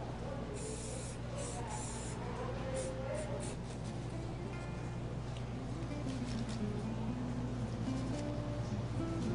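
An aerosol can sprays shine onto Valentine's Day flower arrangements, a continuous hissing spray running the whole time beneath a steady low hum.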